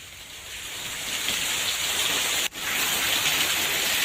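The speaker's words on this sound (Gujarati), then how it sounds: "વરસાદ શરૂ થયો છે" Steady rain pours down in Gujarat after a spell of muggy heat, a dense even hiss that builds slightly and continues with a brief dropout near the middle.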